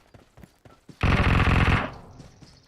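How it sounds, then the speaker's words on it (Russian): Rapid automatic gunfire in the PUBG Mobile battle royale game, a loud sustained burst of about a second standing out over quieter scattered shots and clicks, then trailing off. "Со стороны сейчас опять стрельба была."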